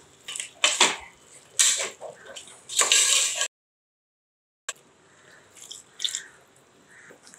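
Water poured into a pot of mutton gravy, giving a few splashy pours and drips with clinking, a brief silent gap, then softer trickling and handling sounds.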